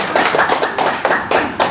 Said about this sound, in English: give a round of applause to Dr.